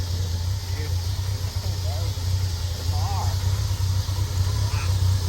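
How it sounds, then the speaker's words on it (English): A Triumph TR6 engine idles steadily on its own after repair work, a low, even rumble running throughout while people talk over it. "fucking running on its own, idling."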